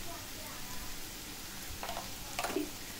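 Onion and masala frying in a pan for sprouted moth bean usal, a soft, steady sizzle close by with a couple of brief clinks of stirring near the end.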